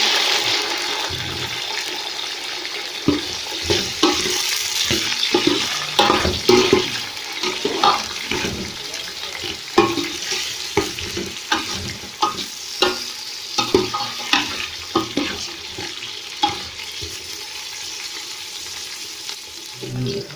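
Potatoes fry with continuous hissing sizzles in a pan while a utensil scrapes and stirs with repeated clacks, close and fairly loud, without speech.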